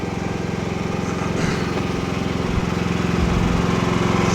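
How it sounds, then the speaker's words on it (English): A generator engine drones loudly and continuously, its pitch and strain shifting slightly partway through as the load changes. "did you hear that change in the generator?"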